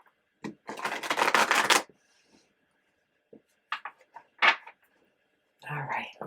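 A deck of tarot cards gets a brisk riffle shuffle, a dense fluttering burst of about a second and a half, followed by a few scattered soft card taps and a quiet voice near the end.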